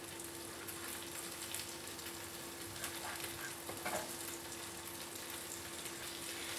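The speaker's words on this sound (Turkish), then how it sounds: "Tekrar kapatıyorum ve tekrar kızartacağım." Steady, quiet sizzling of a lavash toast with tomato and cheese frying in a pan, a continuous crackle with a faint hum underneath.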